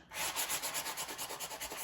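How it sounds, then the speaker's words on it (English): Steady rhythmic rubbing scratches back and forth, close by, about a dozen quick strokes of a sanding sponge smoothing dried spackling on a wall, with no voices. "take your same sanding sponge"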